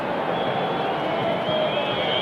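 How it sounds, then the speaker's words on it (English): A large home crowd at a 1997–98 Serie A football match between Milan and Fiorentina, a dense continuous roar of disapproval, with a commentator's voice running over it. "despite the disapproval of the home crowd"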